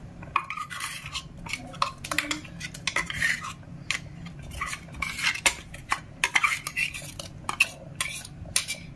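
A spoon scrapes and clinks against a pot as gravy is stirred into a ripe-banana buttermilk curry, with irregular metallic taps and scrapes close by and no voices.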